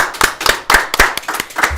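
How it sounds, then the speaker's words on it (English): A few people clapping in quick, uneven rhythm, close and fairly loud, with individual hand claps clearly separate rather than a full applause roar. "Hand of applause for that."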